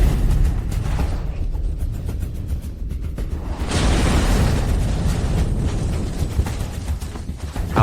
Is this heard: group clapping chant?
no